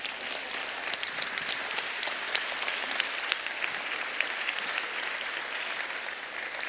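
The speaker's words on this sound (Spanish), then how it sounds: "Un aplauso fuerte." Audience applause fills the room, dense steady clapping from a large crowd with no gaps, moderately loud and sustained throughout.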